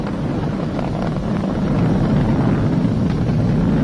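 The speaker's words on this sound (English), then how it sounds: "We're throttling down to get ready for the period of maximum dynamic pressure." SpaceX Falcon 9 rocket engines throttle down near maximum dynamic pressure during ascent, producing a steady, dense roaring rumble with no breaks.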